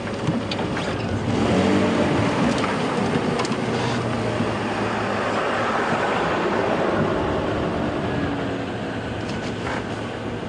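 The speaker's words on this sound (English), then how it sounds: "There seems to be a car trying to get past us." Car approaching and passing on a narrow country road, a steady broadband vehicle rumble that swells slightly early on and holds loud throughout, heard close by with no talking.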